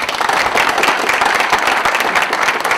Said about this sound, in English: A little round of applause for that video.